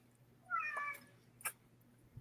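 One short, fairly faint cat meow, followed by a brief tap, with quiet background hum.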